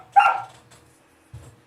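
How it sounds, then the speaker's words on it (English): A vocal pet dog barks once loudly and close, a short burst followed by a quieter low grunt or woof about a second later, with no talk over it. "He's begging the other dogs to play with him is what that is."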